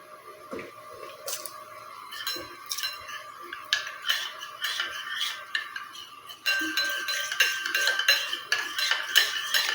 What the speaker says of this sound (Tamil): கட்டி இல்லாமல் நல்லா கலந்து விட்டுக்கோங்க